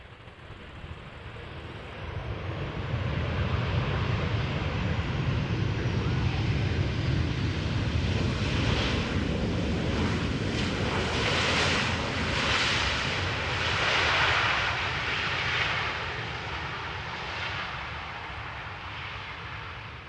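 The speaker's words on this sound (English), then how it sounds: "The next airplane, Transavia flight 5680, Boeing 737-800, arriving from Ibiza." A 21-year-old Transavia Boeing 737-800 arriving from Ibiza lands at Amsterdam Schiphol. Its loud, steady jet roar swells through the middle, then slowly fades, heard alone without talk.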